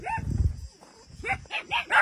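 Several short, high-pitched yips and barks from small puppies, close by, coming in a quick uneven burst after a low rumble.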